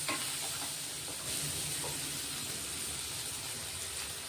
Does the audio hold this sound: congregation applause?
no